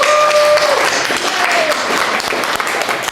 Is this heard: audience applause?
yes